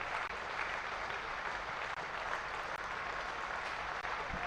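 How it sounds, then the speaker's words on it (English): Cricket crowd at a one-day cup match between Hampshire and Leicestershire applauding a batsman's century, steady sustained clapping spread across the ground at moderate volume. "you can hear the support from around the crowd"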